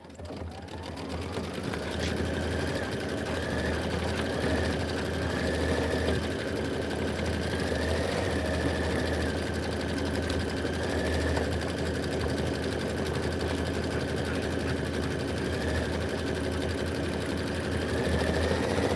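An embroidery machine stitches out a sun-themed design, its steady motor hum and rapid needle chatter running continuously and close up, with a sustained whine above the mechanical buzz.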